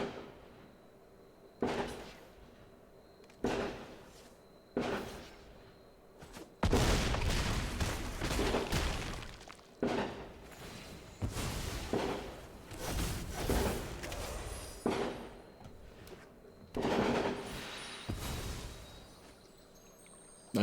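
Fireworks going off outside an open window, a series of sharp bangs and crackling bursts at irregular intervals, some single and some rapid clusters, heard at a distance over a quiet room.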